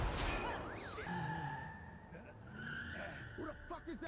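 Tires skid and squeal in a movie car chase, a sweeping screech over a steady engine roar, with scattered crashes and movie effects mixed in underneath.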